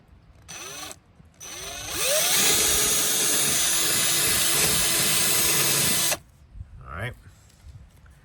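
A power drill whirs in short bursts, then runs loud and steady for about four seconds before stopping, close up in a confined space while drilling a hole to install mud flaps on a Subaru Crosstrek Wilderness.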